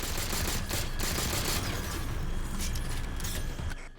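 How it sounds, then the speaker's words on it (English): Halo 4 plasma pistol firing in Spartan Ops, a dense, loud burst of rapid shots crackling continuously like ballistic gunfire before cutting off. "It's weird how the plasma pistol sounds like a ballistic weapon here."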